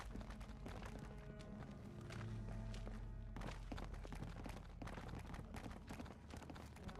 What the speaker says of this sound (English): I don't like hearing the footsteps.